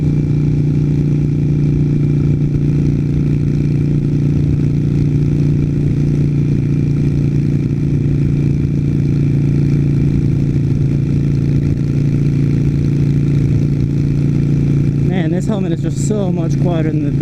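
Motorcycle riding at 65 mph heard from inside a helmet, a constant loud low wind-and-engine roar that holds steady throughout, with a brief voice near the end.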